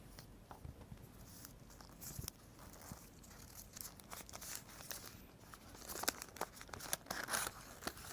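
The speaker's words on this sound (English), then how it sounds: "And then it's the oil paper to wrap it up." Oil paper wrapped around a diesel injector valve assembly for shipping gives soft, close crinkling and rustling with small crackles and tearing-like bursts that grow busier toward the end, with no voice.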